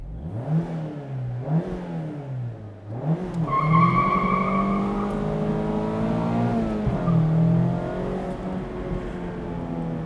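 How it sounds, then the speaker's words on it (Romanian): Rear tires of a convertible squeal loudly and continuously while it is driven hard, with the engine revving and rising in pitch underneath, close and prominent throughout. "este mult prea simplu să faci puntea spate să scârție de la bordul acestei mașini"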